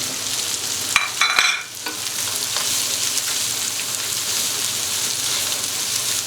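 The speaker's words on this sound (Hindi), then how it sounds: "2 मैंने बड़े साइज में गाजरें ली थी, वो मिक्स कर लेंगे।" Capsicum and carrots being stir-fried for Chinese rice: a steady sizzle runs throughout, with a few scraping stir strokes near the start, close and loud, with no talking.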